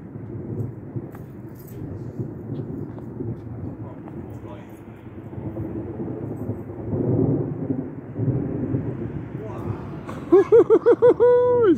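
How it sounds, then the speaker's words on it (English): Deep rumbling thunder rolls through a lightning storm moving in over Weston in August, a long low grumble swelling in waves, joined near the end by a burst of bright chirping birdsong. "big storm rolling in"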